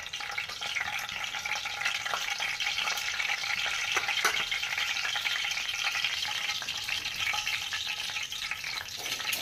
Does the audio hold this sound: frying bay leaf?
yes